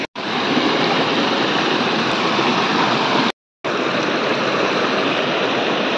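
Loud, continuous rushing roar of a waterfall heard up close, broadband and steady, cutting out briefly for a fraction of a second before resuming.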